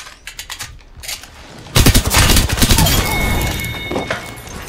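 Gunfire in the shooter game Apex Legends: a few scattered shots, then a loud, sustained burst of rapid automatic fire close by that trails off into lighter shots.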